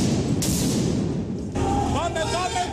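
Stun grenades go off amid a riot clash with police, loud booms and crackling bursts layered in dense crowd noise and shouting.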